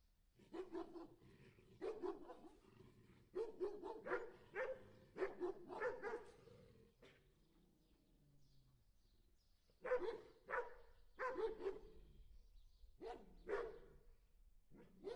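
Dogs barking in repeated bursts, a few sharp deep barks in quick clusters with pauses between, fairly close and distinct against a quiet background.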